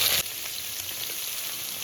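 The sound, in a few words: onions sizzling in hot oil with black cumin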